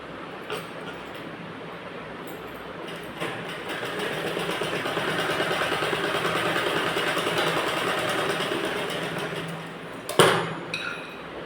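A sewing machine stitching net fabric for a blouse runs with a steady mechanical whir that swells and holds for several seconds, then stops with a sharp clunk and a few light taps.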